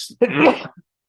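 One short, explosive sneeze, close and abrupt, with a small breathy catch just before it and silence after.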